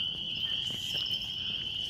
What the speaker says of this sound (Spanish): Cómo se escucha nada más el canto de las ranas,